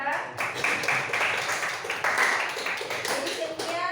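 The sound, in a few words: audience applause for Clara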